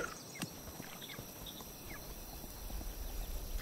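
Horses trot in a video game, a faint quick patter of clip-clop hoofbeats over a quiet ambient background, with soft scattered effects and no talk.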